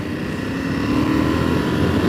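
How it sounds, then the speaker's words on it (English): A KTM motorcycle engine revs in a steady, loud drone that swells slightly partway through, with no voices. "if you rev it, by God does it go"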